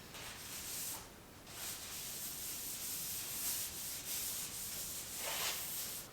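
Cloth lightly wiping excess wood conditioner off a wood surface, soft steady rubbing strokes, close and quiet, with a few brighter swipes.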